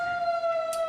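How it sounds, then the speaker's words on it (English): Emergency siren sounding at an outdoor high school soccer match, a steady wailing tone heard briefly and at moderate distance. "And there is the sirens."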